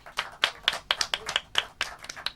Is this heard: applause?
yes